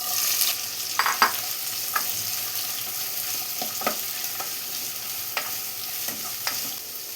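Three sliced onions frying in two tablespoons of oil in a pan, a gentle continuous sizzle close by, broken by spatula scrapes and taps against the pan.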